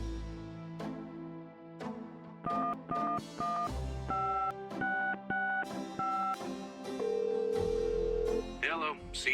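A telephone keypad dialing a travel agency's number in the Gabriel Knight 20th Anniversary Edition game: a run of short, distinct DTMF beeps in uneven bursts, followed by a longer steady tone, clear and alone.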